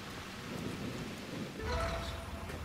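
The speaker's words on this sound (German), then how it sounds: "Und es regnet." Rain and thunder in the video game Garden Life, a steady hiss of rainfall with a low rumble of thunder rolling in partway through.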